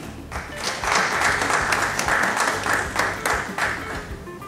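An audience applauds at a foundation launch event in Toronto, with sustained, full clapping from a crowd that rises quickly and holds steady, close and fairly loud.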